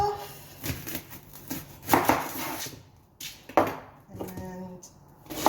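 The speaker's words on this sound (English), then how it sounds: "then we're going to chop an onion" A knife chops through an onion on a board in a run of sharp, irregular strokes with short pauses, close and fairly loud, with faint kitchen clatter between cuts.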